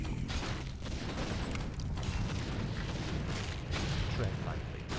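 Barrels being shot and blowing up in the video game Warcraft 3, a dense, rumbling barrage of booms and crackles that runs steadily throughout, with a voice talking over it.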